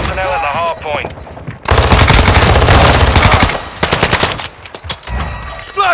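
Heavy automatic gunfire in the Call of Duty: Modern Warfare II video game during a Hardpoint match, a loud sustained burst of rapid shots followed by scattered shots, with game voice chatter around it.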